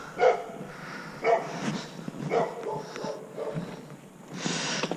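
A dog just off a trail gives three sharp barks at a steady pace, fairly close and clear over quiet outdoor background, followed by softer huffing noises.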